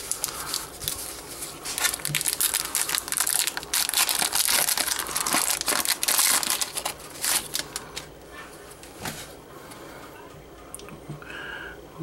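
Foil booster packs of Magic: The Gathering Onslaught cards are torn open and handled close up, producing loud, busy crinkling and crunching of foil wrappers that fades to quieter rustles and occasional ticks.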